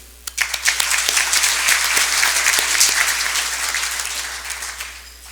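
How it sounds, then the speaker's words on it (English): A banquet audience bursts into loud, sustained applause of many hands clapping together, rising quickly and then slowly tapering off over a few seconds. "So for that, we applaud you."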